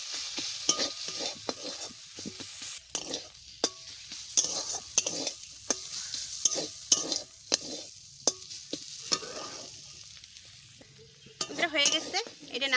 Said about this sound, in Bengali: একটু নাড়াবো, নাড়াই চাড়াইয়ে